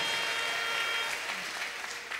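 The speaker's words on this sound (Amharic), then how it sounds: "ለእግዚአብሔር ክብር እልልታችሁን ጭብጨባችሁን" Church congregation clapping and ululating in praise, a dense continuous wash of applause with shrill trilling voices mixed in, steady and loud throughout.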